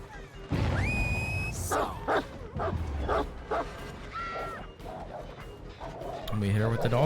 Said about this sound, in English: And we hit her with the dog there.